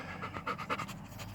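Bo the dog panting inside a truck cab, a steady run of quick breathy pants, close to the microphone, with no talking.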